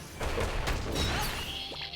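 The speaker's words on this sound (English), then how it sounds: "I like the thud when I punch these things." Punches landing in the video game Final Fantasy XIV give a cluster of dull, heavy thuds and crashing impacts over a couple of seconds, mixed with whooshing game effects and no talking.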